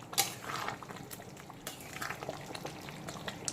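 Lahore-style green chicken curry bubbles and sizzles uncovered in a pan over a full flame. It makes soft, irregular popping and simmering sounds with a few sharper crackles, faint and close.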